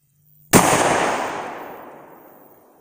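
A shotgun fires a single round of reloaded #00 buckshot at a 20-yard target outdoors, one sharp, loud close blast whose echo rolls off and fades over about two seconds.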